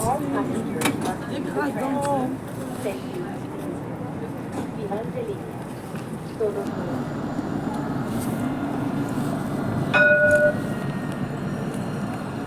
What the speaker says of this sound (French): il y a la ligne 3 qui arrive aussi